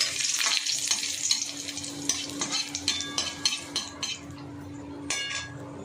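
Dried red chillies fry in hot oil for a rohu fish curry, with a steady sizzle, stirring strokes and several sharp metal clinks from a spoon against the pan.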